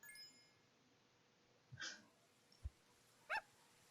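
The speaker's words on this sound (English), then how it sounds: "A puppy." Cartoon puppy in the video game Super Auto Pets gives a couple of short, sharp yips and a brief bark, soft and isolated against a quiet background.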